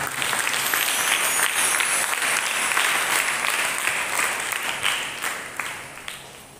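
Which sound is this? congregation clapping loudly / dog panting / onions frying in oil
congregation clapping loudly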